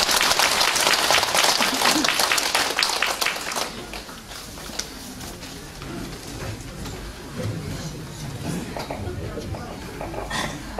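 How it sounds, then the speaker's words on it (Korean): Loud applause from an audience at a rally welcoming the guest of honour fills the opening seconds, then fades into scattered claps and crowd murmur with a voice speaking underneath. "뜨거운 박수로 맞이해 주시면 감사하겠습니다."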